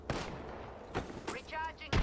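Gunfire in the video game Apex Legends: a few separate bursts of shots, fairly faint, mixed with game voice lines and effects over a low steady background.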